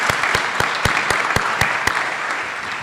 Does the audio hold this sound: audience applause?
yes